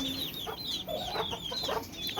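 Chickens cluck in short, repeated bursts, with occasional higher calls over a steady bird-filled background, fairly close.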